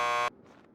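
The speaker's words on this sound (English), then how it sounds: "Just press the buzzer by the door." A door buzzer in the video game Max Payne 2 sounds as a single loud, harsh electronic tone lasting about a quarter second, then cuts off abruptly to faint background sound.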